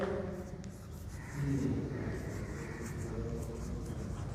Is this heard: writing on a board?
yes